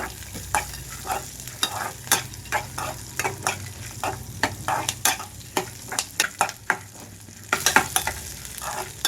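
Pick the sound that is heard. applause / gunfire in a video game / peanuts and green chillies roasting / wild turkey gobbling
peanuts and green chillies roasting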